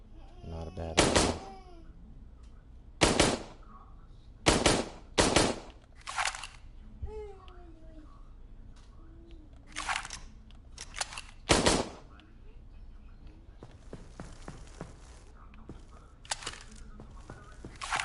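Practice shots from several different guns in a video game, firing sharp, loud reports one or two at a time with pauses between, some as quick doubles and a rapid string near the end, with faint whistling tones between shots.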